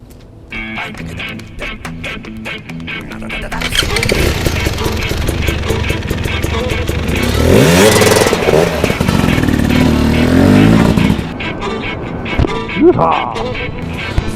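A 2017 KTM 300 XCW two-stroke dirt bike fires up and revs hard, loud and close, its crackling engine rising and falling through several blips before settling back toward idle.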